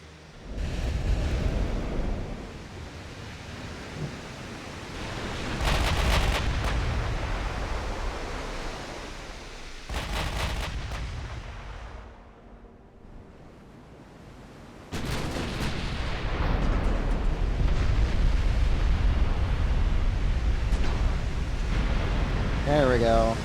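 Heavy 16-inch battleship main guns fire in the naval game Ultimate Admiral: Dreadnoughts, with loud broadband blasts at about 6, 10 and 15 seconds rolling over a continuous roar of sea and wind. No one speaks.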